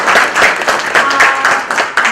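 At the close of a journalists' workshop, an audience claps briefly in a loud, close burst of irregular handclaps.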